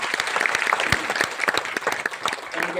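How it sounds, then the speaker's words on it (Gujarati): A live audience breaks into strong applause for Umeshbhai at a Gujarati stage event, dense steady clapping filling the room close by with no voices over it. "એકવાર ઉમેશભાઈ માટે જોરદાર તાળી."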